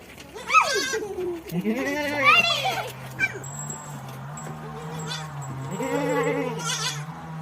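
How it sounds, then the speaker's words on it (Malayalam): Young goats bleat repeatedly, several quavering, high calls close by, with a low steady hum underneath and some faint talk in the background. "ഇതാണ് ഞങ്ങളുടെ ആട്ടുകുട്ടികൾ"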